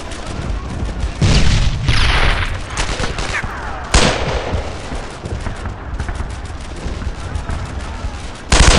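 Gunfire in the World War II shooter game Brothers in Arms: Earned in Blood: sustained bursts of rifle and machine-gun fire mixed with heavy booms, loud and dense across the whole stretch, with sharp blasts near the start and end.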